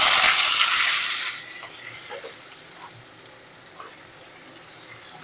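Boiled green jackfruit dropped into hot oil gives a loud, bright sizzle at first, easing to a softer steady hiss with faint crackles before swelling slightly again.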